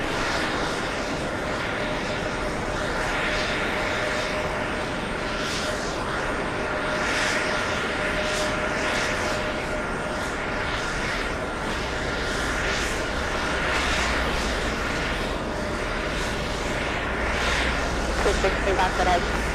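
An airliner on final approach at JFK, about 500 feet up, gives a steady broadband engine roar that swells gently across the stretch, with talk over it and a low rumble building near the end.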